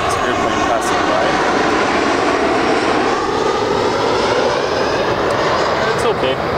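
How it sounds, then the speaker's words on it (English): A fixed-wing airplane passes overhead, its steady broadband engine roar filling the clip at a constant, fairly loud level from start to finish, heard outdoors. "This airplane passing by."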